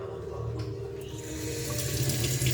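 Tap water gushes from a faucet into a sink, a steady close hiss of running water that swells slightly louder as it keeps flowing.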